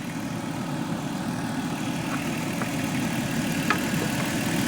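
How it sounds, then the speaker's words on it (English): A car's heater blower fan runs with a steady, even whir and rumble that holds unchanged throughout, loud and close. "Now the blower is still going, you can hear it."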